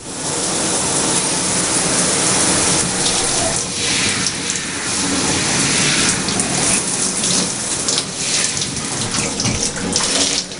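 Running water from a tap or shower rinses shampoo out of hair, a loud, close, continuous gushing spray with uneven splashing bursts throughout.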